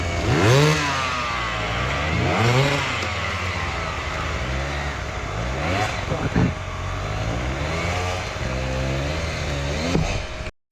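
A hard enduro motorcycle on a race track, engine revving hard and dropping in repeated rising and falling surges, loud and close throughout, with a voice talking over it.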